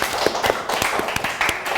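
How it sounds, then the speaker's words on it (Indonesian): A few people clap for a guest in a podcast studio, giving a close, loose, irregular patter of claps for under two seconds. "Oke, tepuk tangan dong buat Mbak Rika."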